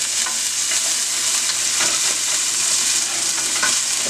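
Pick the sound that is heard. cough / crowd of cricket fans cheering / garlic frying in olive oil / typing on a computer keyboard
garlic frying in olive oil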